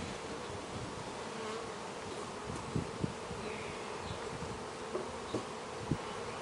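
Honey bees hum steadily inside an opened, heavy hive that is preparing to swarm, a dense continuous drone with a few sharp knocks and clicks of frames and hive tools.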